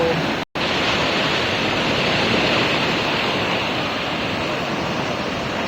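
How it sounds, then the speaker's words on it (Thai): Strong water rushing at a sluice gate where villagers fish, a steady loud broadband roar with no pauses apart from one brief dropout near the start. "น้ำค่อนข้างที่จะแรงนะครับ"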